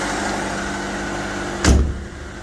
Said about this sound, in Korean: 일단은 시끄러우니까 문을 빨리